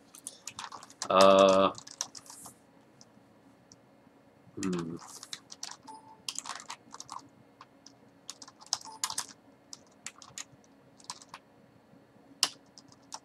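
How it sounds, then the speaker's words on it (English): Short bursts of typing on a computer keyboard, quick clustered keystrokes with pauses between, close and fairly quiet, broken by soft scattered clicks. "Excuse me for a moment while I am typing."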